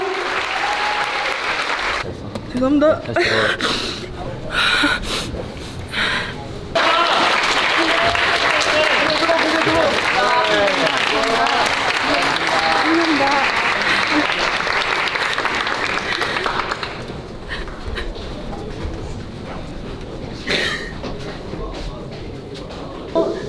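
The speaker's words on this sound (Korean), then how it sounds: "짱구 선수께 박수 부탁드리겠습니다" Audience applause for a wrestler after a women's wrestling match, sustained clapping filling most of the stretch with a voice speaking over it near the start and again toward the end.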